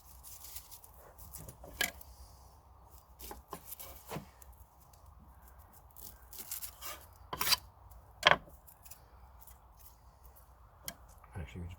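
Allotment onions being cut with a knife outdoors in the woods, heard as sparse, sharp slicing and scraping strokes at irregular intervals over a quiet background.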